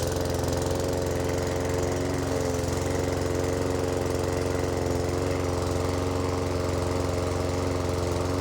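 Having just been pull-started, a small petrol engine runs at a steady, loud idle, its drone constant and unbroken throughout with no voices.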